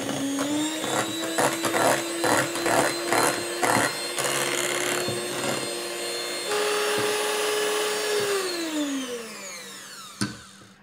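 An electric mixer whips a cocoa butter body butter mixture at steady high speed, with a continuous motor whine and rattling beater clatter that slows and winds down near the end, followed by a single clank.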